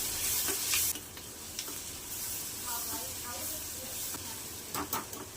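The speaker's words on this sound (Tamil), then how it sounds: "தக்காளி நல்லா பிழிஞ்சு விட்டு வதக்கி விட்டுறலாம்." Tomatoes sautéing in a pan while cooking prawns, a soft continuous sizzle and hiss with occasional sharper clicks and stirring scrapes, steady and fairly quiet.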